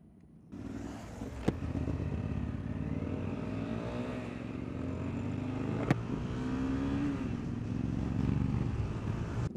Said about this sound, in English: We're going to drag race out here,